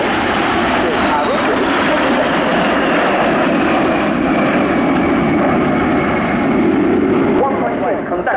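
Frecce Tricolori jet aircraft pass low and slow during an air show demonstration, a loud sustained roar filling the whole stretch, with a commentator speaking over the engine noise.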